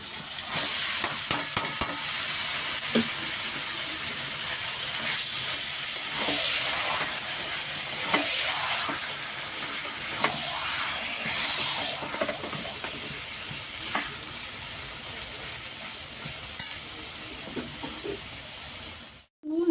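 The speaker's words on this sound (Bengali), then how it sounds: "কচু শাকটা সব একবারে দিয়ে দিচ্ছি" Taro leaves (kochu shaak) added all at once to a hot pan for a prawn dish, giving a loud, steady hiss and sizzle with stirring scrapes that runs nearly unbroken throughout.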